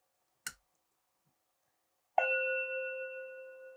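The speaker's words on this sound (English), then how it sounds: "we get a Chime trigger because the circuit is now powered" A UniFi G4 Doorbell Pro chime fires through its chime adapter: a sharp click, a pause, then a single bright ringing tone that sustains and slowly fades, close and clear in a quiet room.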